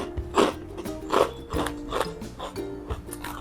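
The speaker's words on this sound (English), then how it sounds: "Can you hear the crunch? Oh my god, they're so crunchy at the same time." Crunchy healthy snacks being chewed up close, a series of crisp crunches in an irregular rhythm, loud and close with no talk over them.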